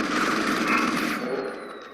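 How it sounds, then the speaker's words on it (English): A heavy rifle fires in rapid automatic bursts in Deus Ex: Human Revolution, loud and close, with the rattle fading into an echoing tail. "just mow her down with this heavy rifle"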